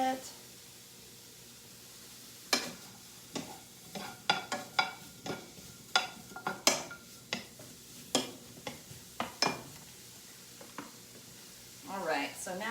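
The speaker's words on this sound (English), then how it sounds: "We're going to toss our pineapple a little bit" Pineapple tossed with olive oil, salt and pepper, making a series of close, soft clicks and scrapes in an uneven rhythm, with a quiet voice near the end.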